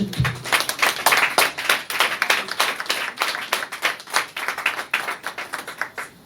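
Church congregation clapping in a steady, rhythmic beat, close and fairly loud, with individual sharp claps distinct rather than a wash of applause, continuing unbroken for several seconds.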